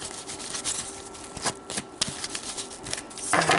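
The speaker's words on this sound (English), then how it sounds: "So I'm going to give these one more shuffle." Tarot cards shuffled by hand in a series of soft papery riffles and flicks, close and fairly quiet, with a brief louder rustle near the end and no talking.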